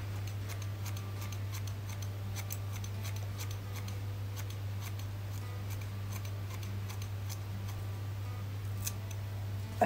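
Scissors snipping a hair fringe, small sharp crisp cuts repeated irregularly at close range over a steady low hum.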